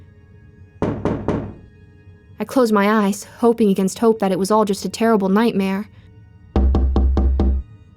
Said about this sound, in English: It knocked on my window harder.